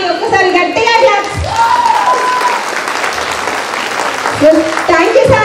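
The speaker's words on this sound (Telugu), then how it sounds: "ఒక్కసారి గట్టిగా క్లాప్స్" An audience at a women empowerment meeting breaks into sustained, dense clapping that fills the room, with voices and a child's chatter mixed underneath.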